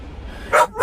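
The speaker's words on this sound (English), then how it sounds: "Every time I get on a video, this dog wants attention" Dog barking for attention indoors, a single short close bark-like burst and a second starting at the end, over quiet room noise.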